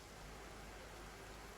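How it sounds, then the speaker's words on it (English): Rain in Train Sim World 4 on the Glossop line near Manchester, a steady soft hiss of falling rain, even and continuous, faint with no distinct drops or talk. "it's wet and rainy"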